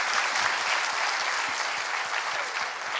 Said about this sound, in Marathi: प्लीज त्यांच्यासाठी जोरदार टाळ्या